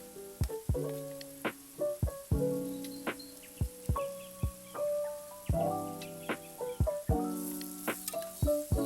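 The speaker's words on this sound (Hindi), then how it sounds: "फिर उसमें कटी हुई सब्ज़ मिर्च और टमाटर डाल देंगे" Chopped green chillies and tomatoes fry with softened onion in a pan for a quick breakfast dish. A low sizzle runs under a steady series of sharp, ringing metallic clinks from stirring, heard up close.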